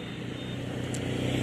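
Steady traffic noise from cars moving along a road beside a bridge, a continuous broadband roar that grows slightly louder toward the end, with no talking over it.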